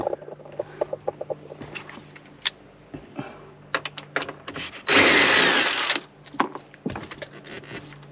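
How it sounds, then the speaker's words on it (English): A power tool backs 8mm bolts out of a Ford Bronco's interior, with scattered clicks and metallic taps before one loud sustained whir of about a second, close-up and without speech. "the first thing we have to do is take these 8mm bolts out on each side"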